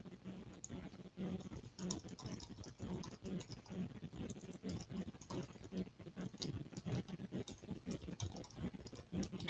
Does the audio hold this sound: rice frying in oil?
no